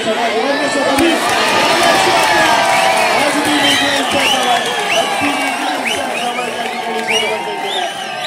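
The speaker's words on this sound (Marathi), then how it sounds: "रोहन उकेसाठी देखील पुन्हा एकदा जोरदार टाळ्या उंचावल्यात" A dense crowd at a sports final claps and cheers loudly and continuously, with whistles and whoops rising above the roar and a commentator talking over it.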